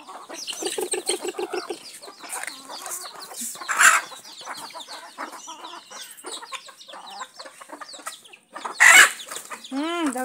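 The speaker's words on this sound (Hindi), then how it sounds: "अभी मुर्गियों को भी चावल देना पड़ता है सुबह उठ के।" Hens clucking close by at feeding time as rice is scattered for them in the morning, a busy run of overlapping clucks and squawks with a couple of louder bursts and a crow-like rising call near the end.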